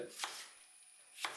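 Two sharp knife chops through tomatoes hit a cutting board about a second apart, crisp and close in an otherwise quiet space.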